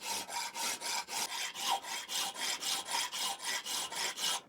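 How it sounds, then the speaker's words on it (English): A metal file rasps across a David Brown 990 tractor draft control part in even back-and-forth strokes, about fifteen rhythmic scrapes close up with no talking. "filing at 90 degrees, because you can see all the high spots"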